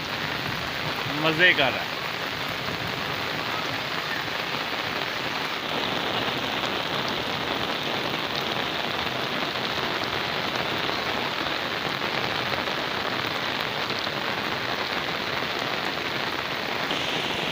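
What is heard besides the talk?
rain falling on farm fields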